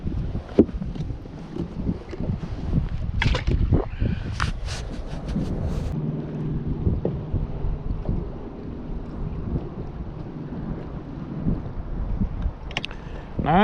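Steady wind buffets the microphone on a lake beside a fishing boat, a continuous rumbling whoosh with scattered knocks and clatter from the boat.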